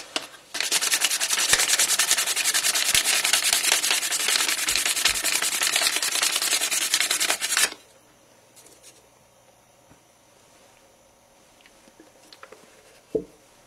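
Finish sanding of wooden revolver grips by hand, a dense rapid scratchy rubbing for about seven seconds, close and loud, then stopping to near quiet with a single light knock near the end.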